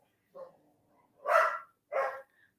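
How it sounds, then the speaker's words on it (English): A dog barks three times, the first a short soft yip and then two loud, sharp barks close by, with brief silences between them and no other sound. "He's barking at his father."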